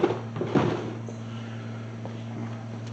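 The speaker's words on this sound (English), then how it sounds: "That gets our door panel off" Two quick plastic thumps as the interior door panel is pulled free from a 1981 Chevy pickup door, close and short, followed by a steady low hum in a quiet shop.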